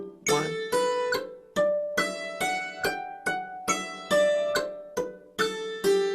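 A struck instrument plays a steady pattern of about a dozen ringing notes, some let ring and others cut short by damping on alternate beats, loud and close with no voices over it.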